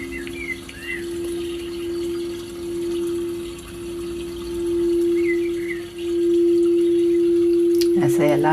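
Steady flowing water runs in the background of a live reiki sound-healing session, set beneath a long sustained singing-bowl tone, with a brief louder burst of activity near the end.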